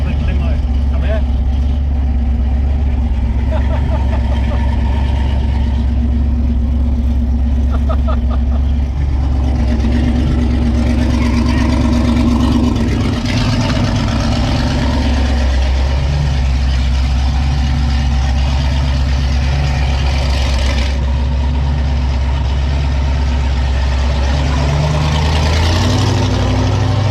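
ProStreet 1969 Camaro RS with a 540ci big block engine, heard from inside while riding: a deep, loud engine rumble drones continuously throughout, swelling and easing with throttle, with voices talking over it at times.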